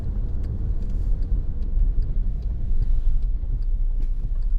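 A 2015 Volkswagen Tiguan 2.0 TDI BlueMotion Tech 4MOTION diesel drives along with a steady low engine rumble and road noise, heard from inside the cabin at an even level throughout.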